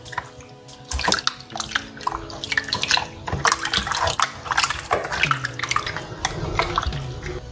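Salt water is poured over raw chicken leg quarters in a sink, a close, lively splashing and trickling that starts after a second and keeps up in uneven gushes and drips until the end.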